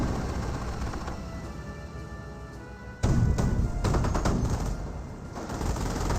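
Strafing-run gunfire in the real-time strategy game Company of Heroes 1, with rapid bursts of crackling shots and a sharp louder volley midway over continuous battle rumble.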